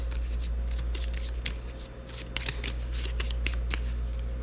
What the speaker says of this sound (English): Reshuffle the encounter deck.